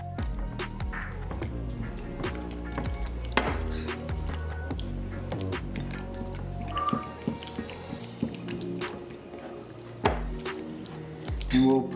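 Beaten egg stirred into a ricotta, mozzarella and spinach stuffed shells filling, soft wet squishing and scraping in a bowl with irregular utensil clinks, close and fairly quiet.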